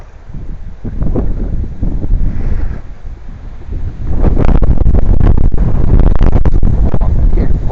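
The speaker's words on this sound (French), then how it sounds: "Oh, quel vent" Strong gusting wind buffets the microphone in loud, rumbling blasts that grow heavier and more constant in the second half.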